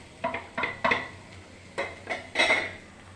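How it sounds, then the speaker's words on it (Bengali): A spoon scrapes and clatters in a pan while egg bhurji is stirred together with paneer, giving six or so distinct metallic knocks and scrapes at an uneven pace, close and moderately loud with no voices. "এরপর যে ডিমটা আমি ভুর্জি বানিয়ে রেখেছিলাম ওটা পনিরের সাথে মিশিয়ে নেব।"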